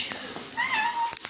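A cat meows once, a drawn-out, fairly close cry with a rising then falling pitch.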